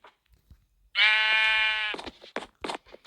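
A sheep in the video game Block Crazy Robo World gives one long, loud bleat, followed by a few short, sharp clicks and taps.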